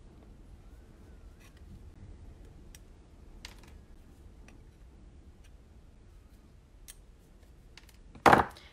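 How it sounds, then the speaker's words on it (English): A single sharp snip cuts the extra hanger off a handmade clothespin angel ornament. It comes near the end after a long quiet stretch with only faint handling. "So I'm gonna trim it off."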